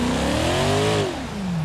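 A loud rally car engine in rally mode revs upward with a rising, close whine, holds briefly, then drops away as the throttle eases.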